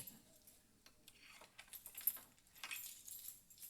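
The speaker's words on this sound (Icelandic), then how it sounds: "Ég ætla bara að reyna að opna þessa hurð með bara einhverjum lykil." A bunch of metal keys jangles and clinks as someone tries them in a door lock, a quiet rattle of light scrapes and taps with no talking.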